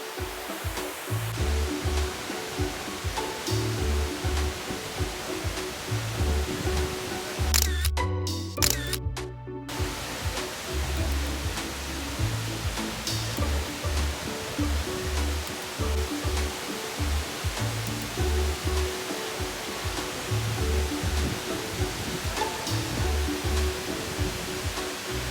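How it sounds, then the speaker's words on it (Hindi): Leke Leke waterfall in North Bali roars steadily nearby, a loud broadband rush of falling water, with a few clicks and handling noises partway through. "लो जी, फॉल के तो हम काफ़ी पास आ गए हैं।"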